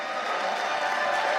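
A conference audience at an interfaith gathering applauds in a steady, continuous wash of clapping, moderately loud and sustained without pause throughout.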